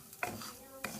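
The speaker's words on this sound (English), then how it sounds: "it's been frying for about, I would say about 10 minutes, and I've been stirring the rice." Rice frying in a pan for Mexican rice, a quiet steady sizzle with two distinct scraping strokes of a spoon stirring it, about half a second apart.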